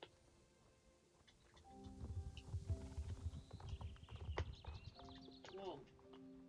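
Rhythmic hoof clip-clops of a walking horse in the video game Star Stable Online, fairly close, with chime-like tones and soft background sounds layered over them.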